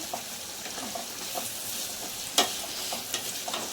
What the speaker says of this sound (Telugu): ఈలోపు ఒకసారి తాలింపు చూసుకున్నామండి చూడండి ఎలా మగ్గుతుందో ఆయిల్లోనే